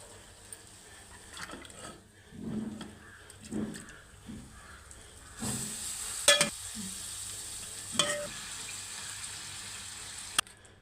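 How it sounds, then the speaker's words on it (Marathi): Mutton goes into hot masala fried in oil, giving a faint sizzle with scraping stirring strokes and a few sharp clicks of a spoon on the pan, and no talk. "आता आपण याच्यात मटण घालून घ्यायचं आहे"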